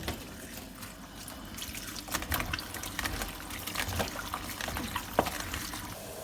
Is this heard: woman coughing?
no